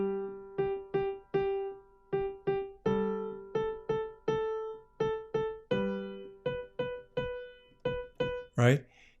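A piano plays the Long Long Ago rhythm slowly and alone: clear, close single and paired notes struck in an even pattern, each ringing briefly, ending with a short noisy bump.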